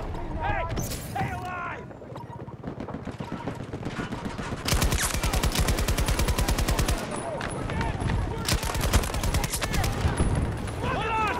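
LCMG machine gun fire in an online shooter video game: rapid, loud bursts of automatic gunfire with pauses between volleys and other gunshots mixed in.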